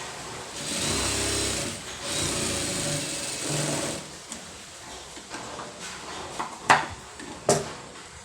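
Sewing machine stitching an embroidered sleeve, running in a few close, steady whirring bursts, then brief clicks and knocks as it stops and the fabric is handled.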